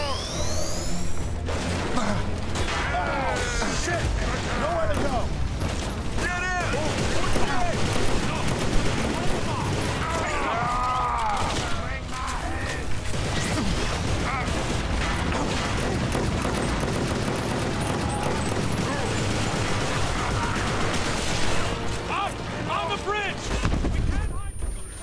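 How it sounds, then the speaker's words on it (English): Rapid machine gun fire from a shooter game, repeated bursts layered with explosions and mechanical clatter across the whole stretch, loud and dense, with players talking over the action. "Hey, this is a new machine gun."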